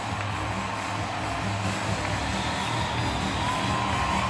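Baseball crowd cheering in a stadium during a Blue Jays–Tigers game, a broad sustained roar of distant fans with scattered shouts and whoops, steady throughout with no clear talking.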